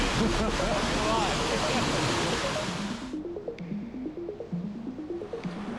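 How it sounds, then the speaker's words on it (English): Rushing water of Little Wilson Stream on Maine's Appalachian Trail flows loudly at first, then quiets to a softer babble as someone speaks over it in short phrases while crossing. "First big water crossing. Getting the feet wet."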